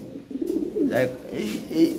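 A fancy pigeon offered for sale coos in soft, low, throaty bursts close by, with a murmur of human voice in the background.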